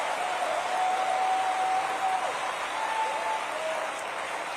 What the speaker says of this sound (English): Overwhelming, resounding audience applause here